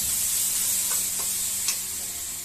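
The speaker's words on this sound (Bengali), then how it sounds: "এটা ভালোভাবে সাঁতলে নেবো সাঁতলে নিয়ে তারপরে আবার যে পেঁয়াজটা ছিল সেই পেঁয়াজটা দিয়ে দেবো" Onion sautéing in a pan for a prawn dish, a steady sizzle with a few soft stirring scrapes, close and alone without talk.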